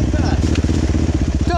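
At a mud rally in Soledade, Rio Grande do Sul, a motorcycle engine throbs loud and close with a steady, pulsing rumble under excited talk.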